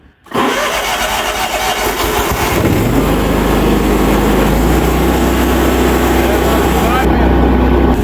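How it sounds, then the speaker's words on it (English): A John Deere 900 series commercial zero-turn mower engine cranks, catches and runs loud and close. The throttle rises partway through to a steady, hard, full-throttle roar. "We're going to start it up at 3/4 throttle, and then we're going to put it up to full throttle and let it sit there and run for 5 minutes."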